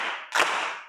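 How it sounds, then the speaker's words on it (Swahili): A few audience claps for a participant during a children's teaching session, short and close, with a brief burst in the middle and another starting right at the end. "tumpigie makofi Baraka"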